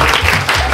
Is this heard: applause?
yes